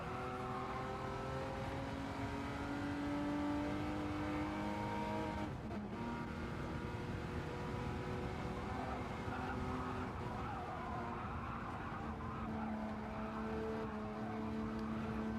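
Ferrari Testarossa engine heard from inside the cabin at a street car showdown, a steady droning hum with layered harmonic tones that shift in pitch as revs change, continuous and moderately loud, with a brief dip partway through.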